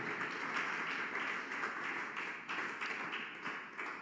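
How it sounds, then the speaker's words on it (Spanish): A church congregation claps together in a rhythmic, sustained burst of applause during worship, a steady patter of many hands heard at moderate distance with no talk over it. "Dele aplausos al Rey de Gloria."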